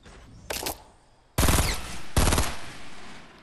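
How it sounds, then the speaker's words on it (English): Gunfire in the Fortnite video game: a short burst of shots, then two louder, longer rapid volleys close by, with a brief gap between them and fading tails. "Okay, I'm getting shot at."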